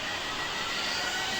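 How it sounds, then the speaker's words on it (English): A steady, broad jet-engine roar in Train Simulator 2019 plays continuously and fairly loud, with no variation and no voices. "oh, you got the jet sounds there"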